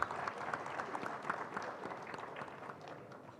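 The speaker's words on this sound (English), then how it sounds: "A round of applause should go on," Audience applause at a government seminar, a fairly quiet, continuous patter of many hands clapping that fades slightly toward the end.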